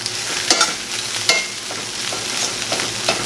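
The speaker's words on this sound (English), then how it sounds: "I'm just going to stir this around a little bit and get that kale going" Kale being stirred in ghee in a frying pan for a pantry hash, a steady sizzle broken by several sharp scraping strokes of the spoon at irregular intervals, close and fairly loud with no talking.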